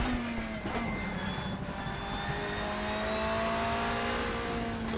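A race car at speed on a flying lap around the Brno circuit, its engine holding a loud, steady high drone with a slight pitch shift, continuous and close, no voices.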